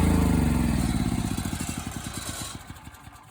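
A portable generator engine running down as it shuts off, its rapid chugging firing pulses slowing and fading over a few seconds.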